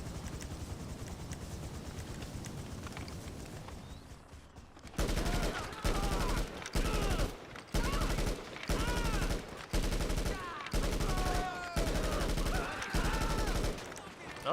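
Gunfire in Grand Theft Auto V: after a stretch of low ambient rumble, loud bursts of rapid automatic fire arrive in repeated volleys separated by short gaps, close and dominant.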